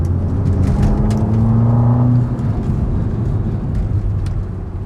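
Ferrari Amalfi V8 in Sport mode, heard as a steady, muffled engine drone with a slight rise in pitch before easing back, continuous and fairly loud with no talking.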